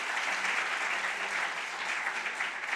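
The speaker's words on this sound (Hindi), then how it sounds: "यहां पर उनके लिए भी एक जोरदार ताली बजाना चाहते हो क्या?" An audience at a college induction program claps steadily and loudly in a dense, even wash of applause throughout.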